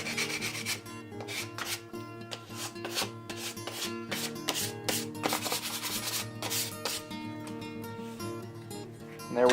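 Sandpaper rubs back and forth on the tip of a poplar wand spinning on a lathe, a steady scratchy sanding over the machine's continuous hum, with no voices.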